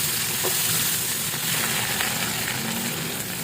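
Shrimp frying in butter in a pan, giving a steady, bright, close sizzle that holds at an even level throughout, with no talk.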